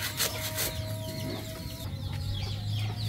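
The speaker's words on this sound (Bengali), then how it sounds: "মাহফুজা এই মুরগিটা কি তোর না" A village chicken clucks several times in short bursts at close range outdoors, over a low steady background hum, with no talking.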